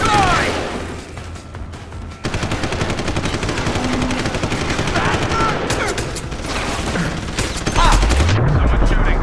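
Rapid bursts of automatic gunfire and single shots crack through a firefight in Deus Ex: Human Revolution, loud and close, with brief pauses, a short synthetic tone, and a voice speaking between volleys.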